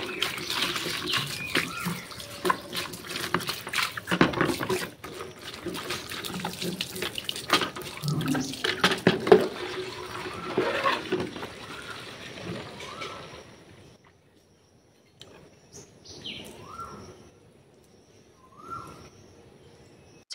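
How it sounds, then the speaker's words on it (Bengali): Tap water gushes steadily from a household faucet into a container, loud and splashing for most of the stretch, then it stops and birds chirp faintly in the quiet. "আজকেও কলের জল চলে এসেছে, কালকের মতন 10টার সময়"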